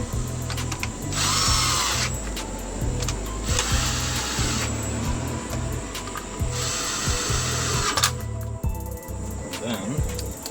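A power drill or impact driver running bolts down on a 2010 Ford Focus during misfire repair, several short whirring bursts with pauses between them, close and loud.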